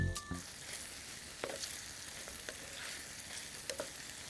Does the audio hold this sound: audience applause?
no